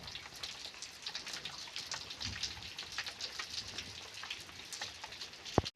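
Heavy evening rain pours steadily outdoors during a storm, a dense continuous hiss of drops with a few sharper nearby splashes and no voices.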